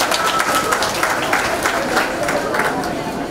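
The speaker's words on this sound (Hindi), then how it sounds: "एक बार जोरदार तालियां हो जाए" An audience at the launch of a hi-tech digital classroom in a Mumbai school breaks into loud, sustained clapping, a thick wash of hands with speech and chatter mixed in throughout.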